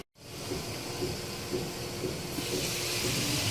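Potatoes with spices steaming in a covered pot after a splash of water, a steady hiss of steam running unbroken throughout after a brief silent start.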